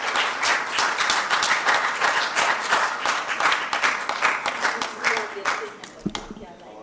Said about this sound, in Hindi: जोरदार तालियों के साथ दोस्तों।